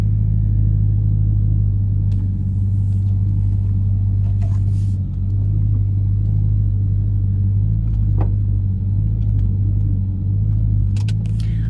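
Steady engine rumble fills the cabin of a moving car, a loud continuous low drone with road noise and occasional faint clicks and rattles, no speech.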